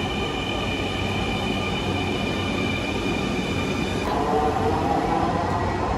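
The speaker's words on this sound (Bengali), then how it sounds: "যে আমাদের ট্রেন চলে এসেছে।" A Dhaka metro train pulling in, a steady rolling rumble topped by a high electric whine that shifts in tone as it slows toward the end.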